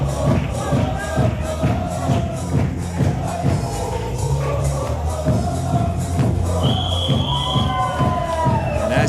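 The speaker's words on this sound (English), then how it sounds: "you can hear the applause and appreciation from this Crossbody Pro Wrestling crowd" Crowd at a Crossbody Pro Wrestling match applauding and cheering, a steady dense roar of clapping with scattered shouts and whoops, loud and close, continuous throughout.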